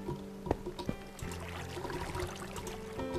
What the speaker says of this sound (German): Und da hören wir das schöne Wasser.